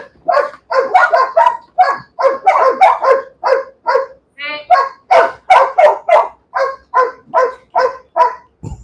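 Dogs barking during a bite work training session: a long run of loud, rapid, rhythmic barks close by, nearly continuous with only brief pauses, and no other voices audible over them.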